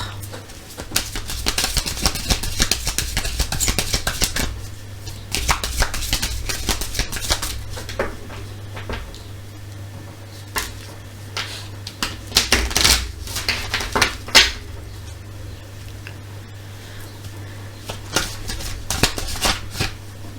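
A deck of oracle cards is cut and shuffled close up, giving repeated crisp riffling and flicking bursts with brief pauses, over a steady low hum and no talking.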